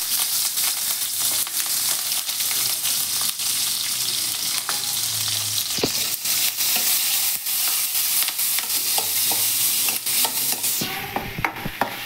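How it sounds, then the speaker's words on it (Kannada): Oil sizzles in a pan with mustard seeds, onion, green chili and curry leaves, crackling steadily with frequent sharp pops and spatters and occasional stirring scrapes, a brief louder burst near the end. "ಒಂದು 2 ಸ್ಪೂನಷ್ಟು ಎಣ್ಣೆ, ಸಾಸಿವೆ, ಈರುಳ್ಳಿ, ಹಸಿಮೆಣಸಿನ್ಕಾಯಿ, ಕರಿಬೇವು ಇಷ್ಟನ್ನು ಹಾಕೋತಾ ಇದ್ದೀನಿ."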